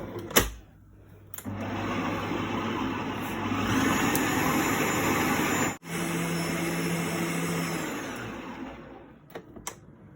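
An electric mixer whirs steadily while whipping a still-warm, watery meringue mixture in a bowl, with a sustained hum that briefly cuts out and restarts, and clicks at the start and end.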